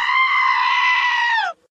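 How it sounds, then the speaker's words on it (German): A sheep lets out one loud, sustained, human-like scream lasting about a second and a half, steady in pitch before dropping off abruptly, close and alone in a cartoon scene. "mir hat gerade jemand ein Video von einem schreienden Schaf gemeldet."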